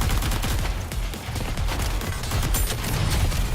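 Dense, continuous gunfire from a Nikke shooter game, with rapid overlapping bursts and booming shots forming a loud, unbroken barrage from start to finish, no voices.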